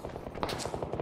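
Rapid gunfire in the battle game PUBG, a short burst of muffled, distant shots in quick succession lasting about a second under a busy game soundscape.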